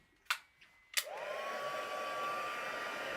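A heat tool used for card making blows air in a steady whirring hiss that holds evenly for about two seconds, preceded by a couple of sharp clicks as it switches on.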